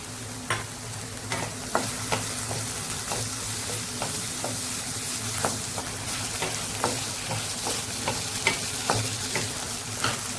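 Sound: onion and tomato frying in a pan

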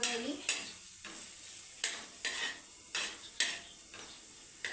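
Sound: peanut vegetable frying on a griddle

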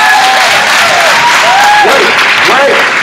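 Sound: conference audience clapping

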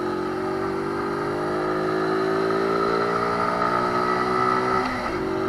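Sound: Honda Dax moped engine while riding

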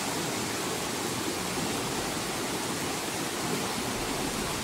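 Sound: waterfall

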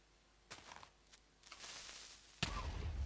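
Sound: creeper explosion in Minecraft video game

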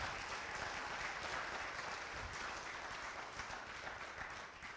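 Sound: church congregation applause

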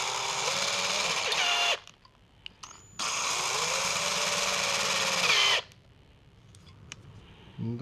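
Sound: drilling cast iron

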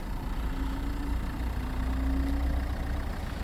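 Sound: car engine idling

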